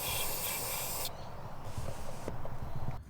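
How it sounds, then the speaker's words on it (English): Air mass meter cleaner sprayed onto a Ford Transit van's sensor, a close steady hiss lasting about a second, followed by quiet handling noises. "you need to clean it with a special air mass meter cleaner"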